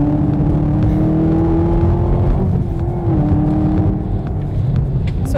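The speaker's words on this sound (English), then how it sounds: "does the dual exhaust ever sound amazing in this car?" A car engine drones loudly from inside the cabin, its pitch rising and dipping slightly as the exhaust rumbles steadily throughout.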